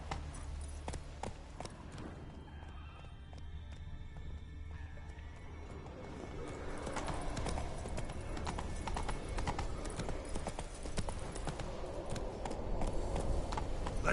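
Hooves of the horse Roach clip-clop in a steady rhythmic gait in The Witcher 3, close and clear, picking up pace and growing louder in the second half over soft ambient background.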